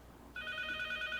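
A mobile phone ringtone breaks in abruptly and rings on steadily as a bright, sustained electronic tone, fairly close and alone with no talking.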